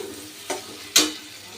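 Spice paste with turmeric powder is stir-fried in a pan over a low background hiss. Two brief scraping strokes sound close by, and the second is louder than the first.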